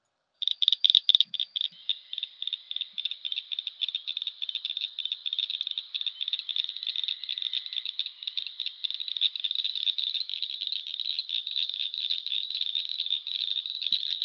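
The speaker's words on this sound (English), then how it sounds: "the northern cricket frog." A northern cricket frog calls steadily, a dense train of rapid, grainy clicking rattles that starts in a few separate bursts and then runs on without a break. It is close and fairly loud with no other sound.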